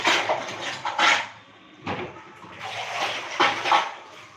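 Dishes, pots and vessels being washed in a kitchen, with repeated bursts of running water and clattering, scraping metal in uneven spurts, close and fairly loud, with no talk.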